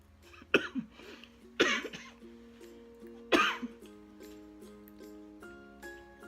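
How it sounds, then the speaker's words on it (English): Three sharp coughs burst out close by after eating Vegemite, spaced a second or two apart, with quiet background hum and a faint tonal drone in between. "That's why I was coughing"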